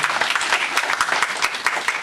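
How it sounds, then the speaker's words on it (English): Audience applause at an annual Black History awards event, a brief burst of hand claps with distinct individual claps standing out, close and fairly loud. "Give them another round of applause, please."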